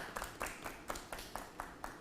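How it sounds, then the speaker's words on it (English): Faint, evenly spaced hand claps, roughly eight in two seconds, greet the Ginger Mind startup team at a startup showcase. The clapping sounds sparse rather than like a full crowd, with no voices over it. "Round of applause if we can have for them"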